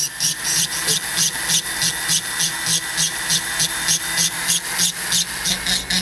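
A small rotary tool fitted with a 2 millimeter ball burr cuts a texture pattern into a metal plate, a high whirring grind pulsing in quick, regular bursts as the burr is pressed and lifted repeatedly.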